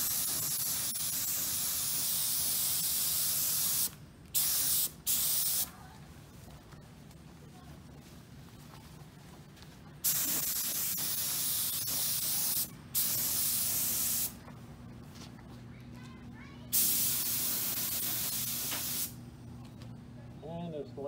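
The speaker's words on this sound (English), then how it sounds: "I'll do a couple of sprays just to see how it's going" A spray gun hisses in long steady bursts as it sprays primer onto aluminum at 55 PSI, loud and close, the hiss starting and stopping several times with short pauses between passes.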